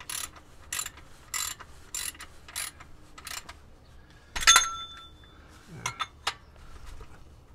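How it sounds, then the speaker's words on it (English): A ratchet works on the oil drain plug of a 2018 Toyota Corolla during an oil change, giving a run of sharp, evenly spaced metallic clicks, then a brief clatter of metal tools and a few scattered knocks, close and clear with no talking. "we're gonna go ahead and use this ratchet here, which is not very applicable, but just gonna hand hit it just to make sure that it is tight"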